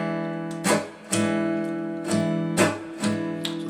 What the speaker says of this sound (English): down, up, and you're going to mute the strings on the 2nd stroke